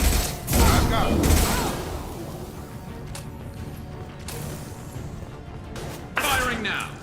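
Gunfire in Mass Effect Legendary Edition on insanity difficulty, loud bursts of shots near the start and again near the end over a steady game soundscape, with voices talking throughout.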